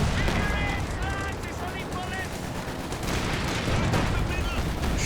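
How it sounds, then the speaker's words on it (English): StuG E assault gun firing in the Company of Heroes 2 video game: dense battle noise with rapid gunfire crackle and heavy booms layered over a continuous rumble, fairly loud throughout. "Stug E, firing away against the Piet squad"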